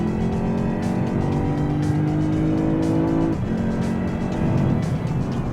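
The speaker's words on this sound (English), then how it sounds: "Can you hear that exhaust note?" A 2012 Lexus IS-F V8 exhaust accelerating hard, a loud, continuous engine roar with rising pitch that drops briefly at a gear change and then climbs again, close and alone without talk.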